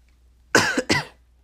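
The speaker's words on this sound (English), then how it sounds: "Excuse me, I had to cough there." Two sharp coughs, close and loud, one right after the other, with silence around them.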